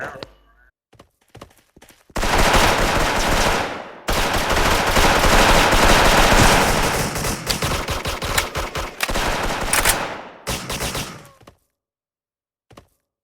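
Sustained rapid automatic gunfire from an online shooting video game, loud and dense for several seconds, then broken into scattered bursts before trailing off to near silence.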